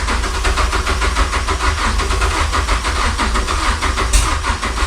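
Ford Sierra Sapphire engine running loud and close, with a rough, pulsing throb that holds steady across the whole stretch.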